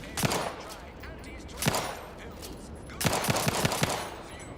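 Gunfire in the video game Outer Worlds 2, sounding in two short bursts, first a single shot and then a quick volley of several rapid shots. Moderately loud over a faint game-ambience bed, with no voices.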